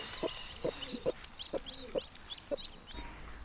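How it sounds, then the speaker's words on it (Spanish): Newly hatched chicks, including a descendant of a silkie hen, peep in a series of short, bright calls with soft clucking between them, close by and alone. "tenemos pollitos"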